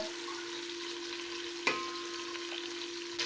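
Onions frying gently over low heat in a pan, a soft steady sizzle with one brief clink of a spoon stirring partway through, close and moderately quiet.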